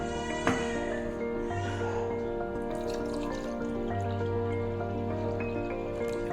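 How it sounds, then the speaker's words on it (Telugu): Water pouring steadily into a pot, two cups of water to one cup, a continuous close trickle and splash with a brief clink near the start. "1 కప్పుకి 2 కప్పులు నీళ్ళు వేస్తున్నాను."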